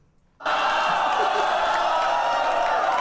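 A FlipTop rap battle crowd erupts into loud, sustained shouting that starts suddenly after a brief silence and holds steady at full volume.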